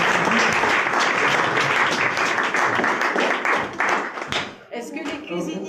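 Audience applauding the cooks after a dinner event on a boat, a dense, steady wash of clapping that thins and breaks up near the end as a voice begins to speak.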